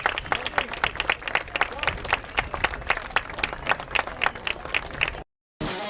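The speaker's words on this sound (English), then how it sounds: "Can we all give a round of applause and thank all our seniors and their parents for all their hard work and dedication" Steady crowd applause with dense, rhythmic clapping at a high school boys lacrosse game honoring seniors and their parents, loud and continuous before cutting off abruptly near the end.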